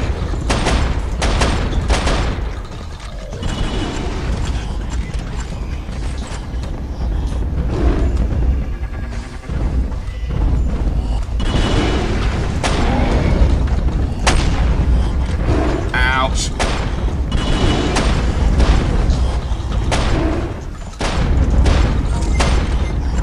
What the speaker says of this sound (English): Shotguns, shotguns.